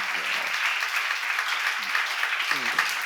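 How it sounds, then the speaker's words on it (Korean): Church congregation applauding during a sermon at a seminar, a steady wash of clapping through the whole stretch with a voice speaking faintly at the start, middle and end. "박수를 한번 주세요"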